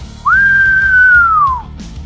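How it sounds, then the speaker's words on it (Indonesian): A single loud, shrill whistle holds a steady pitch for over a second, then slides slightly downward and stops, close and clear over a low background hum. "telinganya mendengar lengking siulan yang nyaring luar biasa"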